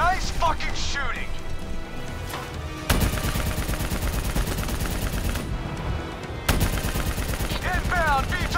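Gunfire in the Call of Duty: Black Ops 3 video game, dense sustained machine-gun bursts and heavy firing, loud and close, with shouted voices over the shooting.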